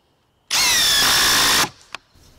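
A Makita LXT XDT12Z impact driver runs in high mode driving a screw: one loud, close, high-pitched whirring burst of about a second that stops abruptly, followed by a faint click.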